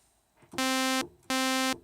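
Two loud, buzzy Yamaha DX7 synthesizer notes sound one after another, each held steady for about half a second with a short gap between them.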